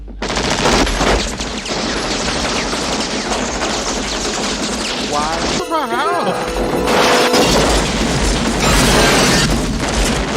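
A 1990 action film gunfight from Hard To Kill, with loud rapid bursts of automatic gunfire and crashing impacts, briefly dropping out before the shooting resumes, with a voice heard in the middle.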